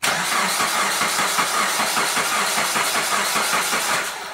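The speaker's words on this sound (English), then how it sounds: "So go ahead, crank it, Stevie" A Suzuki SX4 engine cranks on its starter motor, a loud, close, steady whirring churn with a rhythmic pulse from each compression stroke, not catching, with no voices.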